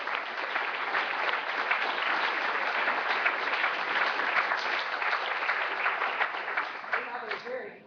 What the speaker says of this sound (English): I'd like you to join me in a round of applause to thank both of our speakers today